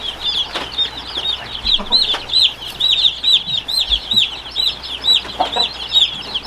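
Meat bird chicks in a greenhouse brooder cheeping and clucking continuously, a dense chorus of high repeated peeps close to the microphone.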